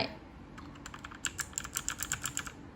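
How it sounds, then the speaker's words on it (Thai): Number keys on a computer keyboard are pressed in a quick run of close, crisp clicks, starting sparse and becoming a rapid burst of separate taps at the end. "เวลาเรากดตัวเลขนี้ใช่ไหม นี่ เราจะพิมพ์แล้วมันกดไม่ได้"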